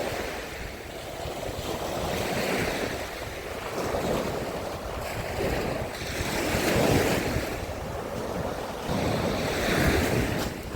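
Sea waves surge and break on the shore in Odesa in repeated swells, with steady wind noise buffeting the microphone throughout.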